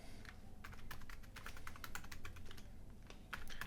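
Steady typing on a computer keyboard, a quick run of close, crisp key clicks continuing for several seconds with a few brief pauses and a slightly louder burst at the end.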